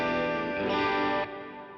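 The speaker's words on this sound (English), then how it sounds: "Let me show you the clean." An electric guitar played clean through a budget pedalboard rings out in sustained, harmonically rich chords, swelling slightly midway before the notes fade a little, with no talking.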